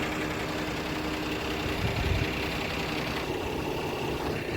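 The rear engine of a truck runs in a steady low idle, a dense close rumble with knocking texture that holds evenly throughout.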